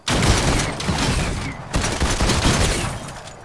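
The primal shotgun in the video game Fortnite fires in quick succession, loud booming blasts packed tightly together in two dense bursts with a short gap between them.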